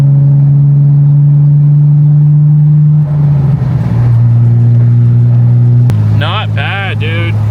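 A Nissan G35 with a Flashark racing exhaust idles with a steady low drone, then revs up loudly and settles back, close by, with a person talking briefly over it near the end.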